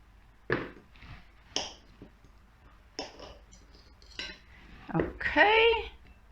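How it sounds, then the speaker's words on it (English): Butter is sliced into small pieces, with a knife tapping and clinking against a plate or bowl in several separate close strikes. A longer scraping clatter near the end is followed by a brief ringing note. "I'll just cut it in some small pieces"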